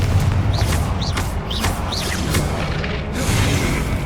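Fiery Confringo spell blasts in the video game Hogwarts Legacy, a rapid series of whooshing, chirping bursts followed by booming impacts, loud and close, then a rumbling tail.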